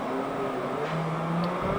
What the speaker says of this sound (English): when we exit the pits off the limiter, the engine is going to spring into life